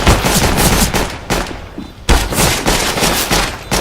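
Rapid automatic gunfire in CS:GO, loud and close, rattling in dense bursts with a short lull midway before the shooting resumes sharply.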